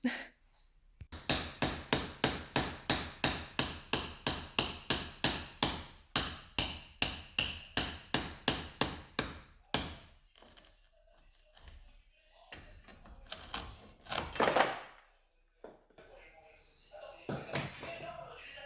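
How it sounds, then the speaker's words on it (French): Hammer driving a small chisel into stone facing during demolition, a steady run of about twenty-five sharp, evenly paced close strikes, then scattered scraping and a few louder knocks near the end. "je vais prendre mon marteau, mon petit burin, et on va taper dessus"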